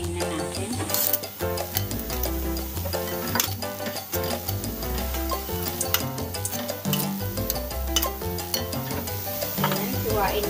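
Pork sizzles in a hot pan while being stirred for pancit canton guisado, a steady loud frying hiss with frequent metallic scrapes and clinks, and a voice talking over it.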